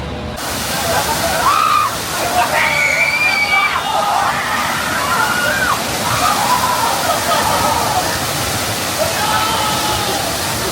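A water ride at Marvel Superhero Island theme park fills the air with loud, continuous rushing and splashing water, with shrieks and crowd voices rising over the steady roar.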